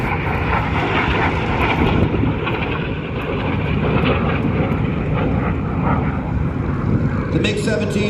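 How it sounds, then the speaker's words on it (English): A MiG-17 jet flying at the Central Coast Airfest 2023 airshow produces a loud, continuous engine roar with heavy wind buffeting on the microphone, and voices can be heard under the noise. "The MiG-17, more thrust, got the afterburner and a slightly more sweep on the wing"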